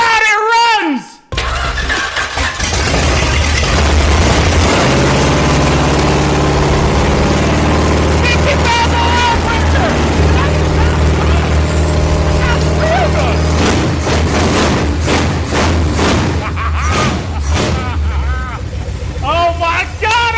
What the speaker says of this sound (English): It runs good, it idles, it runs smooth.